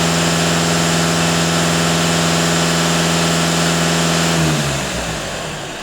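A Skoda Octavia 2.0 TDI diesel runs loud and close, holding a steady droning hum with a high rev before it drops and winds down near the end.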